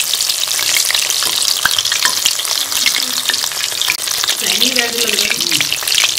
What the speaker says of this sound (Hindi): आपको हम इसको मीडियम आंच पे ही गोल्डन होने तक पकाना है ताकि जो चिकन है वो भी अच्छी तरह से अंदर से पक जाए